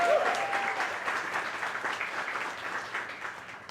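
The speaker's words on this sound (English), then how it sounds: "Let's give Jasmine a huge round of applause again" Audience at a Latino cultural heritage event breaking into a round of applause, many hands clapping at once, loudest at the start and slowly fading over a few seconds, with a brief faint whistle at the very beginning.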